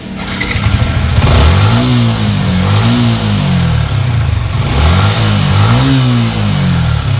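An engine with a faulty solenoid idles and revs repeatedly in rising and falling waves, close and loud, with a rough mechanical clatter underneath.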